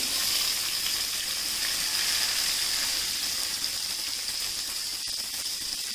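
Garlic and chopped onion frying in a pan for dal, a steady close sizzle with a faint high whine running throughout and no voices.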